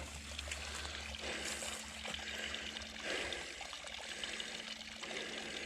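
Water steadily pours and trickles out of the top of a plugged field tile drainage pipe outdoors, a soft continuous rushing flow heard alone at low volume.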